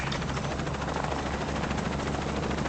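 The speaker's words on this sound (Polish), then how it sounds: "Nara, jestem w helikopterze, mam pilota." A helicopter in the video game Shadow of the Tomb Raider gives a steady, loud, close rotor-and-engine drone that holds unbroken from start to finish.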